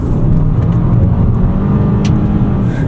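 A 2024 Hyundai Sonata N Line in sport mode, 290 horsepower, gives a loud, steady engine drone from inside the cabin as it accelerates, with a deep low rumble and no speech.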